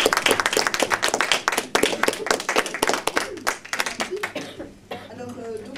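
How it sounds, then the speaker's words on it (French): An audience at a stage show applauds, a burst of dense clapping that fades out toward the end as a voice begins to speak. "On l'applaudit bien fort."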